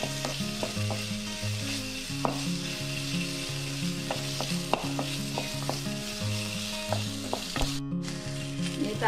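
Onion and tomato frying in a pan for a Kerala anchovy (kozhuva) curry, giving a steady, close sizzle with occasional stirring noises throughout.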